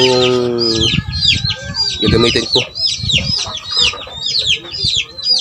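Fighting roosters cluck and squawk repeatedly at close range, with someone speaking over them in between.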